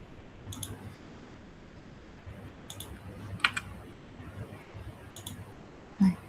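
Ctrl key shortcuts pressed on a computer keyboard while coding in Python, a few sharp clicks in small clusters, close and quiet against a low room hum.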